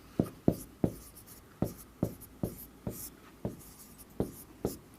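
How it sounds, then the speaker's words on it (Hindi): Pen or chalk strokes of handwriting, a definition being written out in a class, forming a regular series of short scratchy taps roughly every half second, close and clear with no talk. "परिभाषा लिख दूं इसकी"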